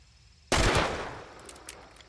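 A single sharp Hunt: Showdown gunshot lands as a chest hit, a sudden loud crack followed by a fading echoing tail, with no talking.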